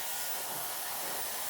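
A hair dryer blows steadily and close while styling a women's hair replacement system, a continuous broadband whoosh with no talking.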